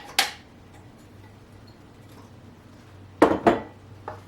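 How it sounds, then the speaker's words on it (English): Chopped apples are folded into vegan cake batter; a brief utensil clink against the bowl comes first, then after a quiet stretch a tight cluster of three sharper clinks and taps. "we're going to take our apples and just fold them into the batter"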